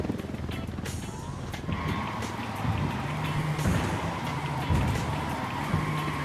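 A car drives in Ghost Recon Wildlands, its engine a steady loud drone running throughout with some tonal engine variation, while background game noise carries on.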